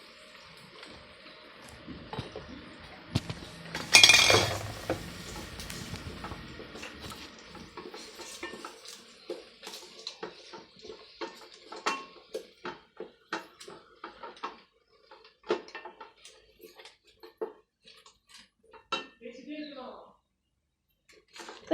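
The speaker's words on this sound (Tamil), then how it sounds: "இப்போ நல்லா கிண்டிக்கணும்." Vegetables with green chilli and onion for vegetable biryani are stirred in a pot, giving scattered metallic clinks and scrapes, with a loud sizzling rush early on, while someone talks throughout.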